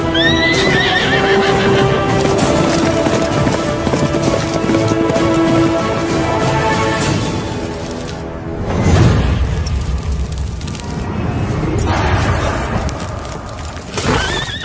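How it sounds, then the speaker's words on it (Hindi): A horse neighs loudly and repeatedly, its whinnies rising and falling, while hooves clop nearby and a heavy boom or impact breaks in midway through a dramatic action-film scene. "घोड़े ने क्या किया है?"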